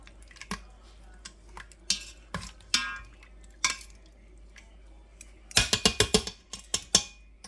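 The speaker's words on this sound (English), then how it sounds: "I'm going to go ahead and mix all this together" Utensil stirring turmeric and salt into a dish in a home kitchen, heard as scattered clinks and scrapes that gather into a quick burst of taps near the end, close and fairly quiet.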